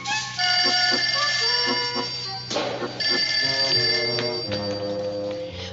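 A telephone bell rings in loud, repeated bursts with short pauses between them, sounding close and alone, with no talk.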